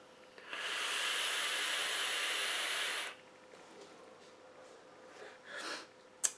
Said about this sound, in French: On a une belle vapeur.